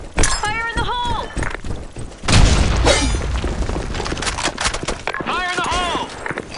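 A grenade explodes in the Blackshot shooter game, one sudden loud boom with a brief rumbling tail in the middle, while voices call out before and after it.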